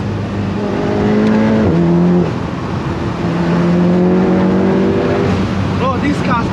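A 500 bhp Volkswagen Golf R accelerates hard through London city streets, its engine note climbing through gears with a brief shift dip, loud and close from inside the cabin, with voices talking over it.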